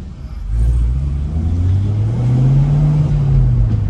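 A Chevrolet Camaro SS 1LE with 500 hp accelerating hard, a loud deep V8 roar that rises steadily in pitch and holds strong, close and alone.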